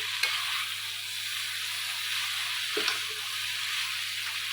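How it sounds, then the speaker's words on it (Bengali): Mixed vegetable curry stirred in a pan, a steady close sizzle of frying with a couple of soft scraping strokes of the spoon, no voices. "এখন ঢাকনাটা উঠিয়ে একটু ভালোভাবে নাড়াচাড়া করে মিশিয়ে দেবো।"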